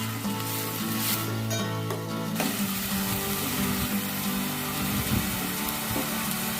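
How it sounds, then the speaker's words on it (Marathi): Finely chopped onion sautés in a hot spice tempering for Maharashtrian misal pav, a loud, continuous close-up sizzle with sustained tonal background music running beneath it. "बारीक चिरून घेतलेला कांदा आपण यामध्ये टाकूया आणि चांगलं असं आता आपण हे परतून घेऊया"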